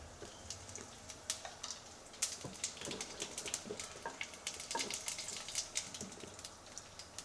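Whole cumin, black cumin and dried chillies fry in mustard oil, giving a faint, close crackle of scattered pops and spits that runs steadily throughout with no talk.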